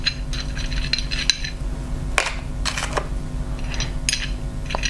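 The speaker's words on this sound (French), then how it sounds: "Premièrement, on va remplir le bac de sucre." Sugar cubes set by hand into a clear plastic tray, a run of light, close clicks and taps against the plastic, some in quick clusters, others spaced out, over a low steady hum.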